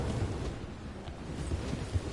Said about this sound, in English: this storm is pretty crazy right now